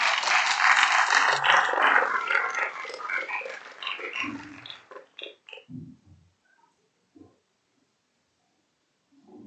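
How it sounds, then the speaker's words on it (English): An audience at a panel event applauds the guests with loud, dense clapping that thins into a few scattered claps and fades to silence. "A round of applause for all our guests."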